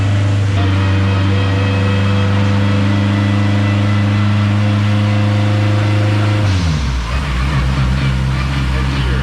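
Car engine revving hard on a dyno with 30% duty, tires coated for grip: a loud, steady high-rpm drone holding for about six seconds, then dropping sharply into a rougher, lower rumble.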